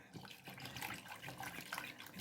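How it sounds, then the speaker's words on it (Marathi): Water poured into a pot of kadhi being made with snake gourd, a soft continuous splashing trickle, fairly quiet and close. "आता मी इथं पाणी पण घालते"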